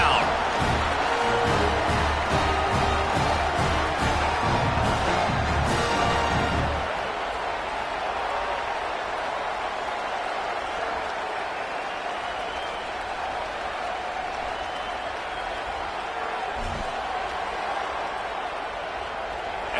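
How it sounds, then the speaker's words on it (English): A big stadium crowd roars at a Penn State vs Texas football game as a field goal try is set up, loud and sustained, then settling into a dull broad murmur, with a commentator talking over it. "This crowd trying to do its part to get inside the kicker's head."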